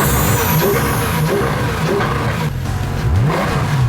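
A flashy sports car engine revs hard close by, with rising and falling throttle sweeps and a final climbing roar, loud and unaccompanied by voices.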